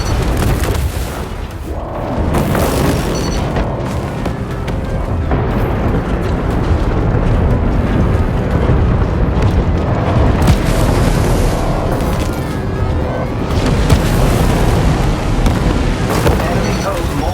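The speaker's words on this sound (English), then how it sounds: "Incoming missiles." Missile strikes pound the battlefield in the mech combat game War Robots: Frontiers, a dense, loud barrage of booming explosions and rumbling impacts with heavy sustained noise throughout.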